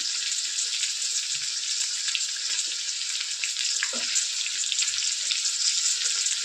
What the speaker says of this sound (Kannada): ಇವಾಗ ಕರಿಬೇವಿನ ಸೊಪ್ಪು ಹಾಕ್ತಾಯಿದ್ದೀನಿ. ಸುಮ್ಮನೆ ಎಲ್ಲ ಸಿಡಿದು ಬಿಡುತ್ತೆ